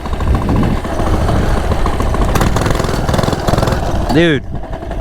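A Coleman CT100U minibike with its governor removed runs loudly while being ridden, a close, rough, buzzing single-cylinder engine holding steady revs; a rider speaks briefly over it near the end.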